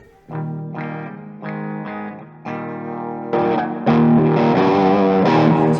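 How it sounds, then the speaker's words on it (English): Electric guitar played through a Soul Food overdrive pedal for rhythm distortion: chugging chords struck in steady bursts, building to a thicker, louder sustained wall of crunchy tone with no talking. "I got my soul food for a solid rhythm distortion"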